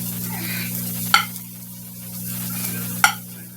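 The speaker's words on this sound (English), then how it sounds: "we're gonna put some shrimp in there before we cook the steaks" Shrimp and bacon sizzling in a frying pan, a steady soft crackle with two sharp utensil clicks against the pan, no talking.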